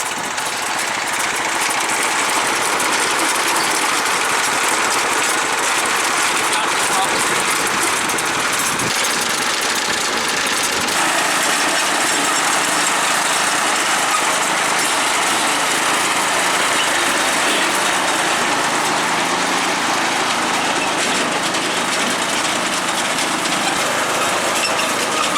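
A lawn tractor engine runs steadily and loudly nearby, a constant rough drone with a slight shift in tone partway through, no voices.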